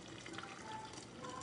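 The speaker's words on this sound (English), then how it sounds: "So we're just gonna pour in my hot water" Hot water is poured over loose tea leaves in a steady, quiet trickling stream, faint and continuous with no talk.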